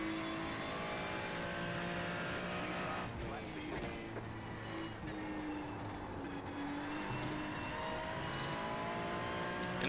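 Race car engine holding a steady high drone through a lap in a racing video game, loud and continuous with shifting engine tones and brief tire scrubs, occasional faint voice underneath.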